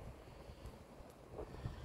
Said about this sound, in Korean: 지금 바람 소리가 계속 많이 들릴 텐데 이 바람 소리를 듣는 것도 기분이 되게 좋더라고요